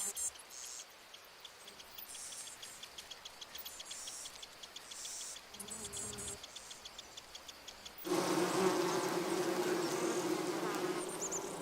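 Japanese honeybees hum and buzz around garden hives, a steady insect drone that swells louder partway through, with close passing buzzes.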